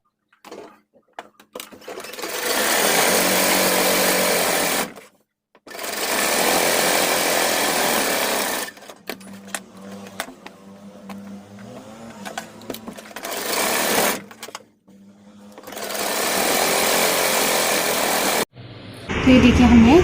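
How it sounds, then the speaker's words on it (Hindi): A sewing machine runs loud and close, stitching the fitting seam on a boat neck kurti in long steady bursts of rapid whirring, with a softer, uneven stretch of slower stitching and brief pauses between runs. "अब हमें इसमें फिटिंग की सिलाई लगा देनी है"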